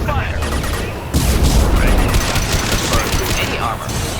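Heavy gunfire in the video game Mass Effect 2, a loud sustained fusillade of rapid shots and booms with mechanical clatter and voices talking over it.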